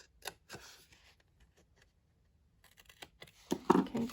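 Scissors snip a small paper flap during a card-making craft project, giving a few quiet, crisp cuts spaced apart, then a quick cluster of louder snips and paper rustle near the end.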